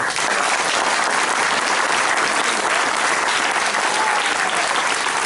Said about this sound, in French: Merci de les applaudir très très fort.